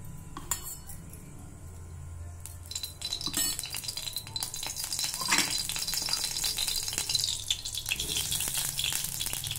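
Mustard oil heats in a hot wok with a soft sizzle that grows more crackling and steady after a few seconds, scattered with clinks of a metal utensil against the pan and no talk.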